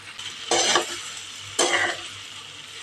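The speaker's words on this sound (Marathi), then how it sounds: "चांगलं ढवळायचं." Leftover idli pieces being stirred with masala in a pan, two distinct scraping stirs about a second apart over a quiet sizzle, no voices.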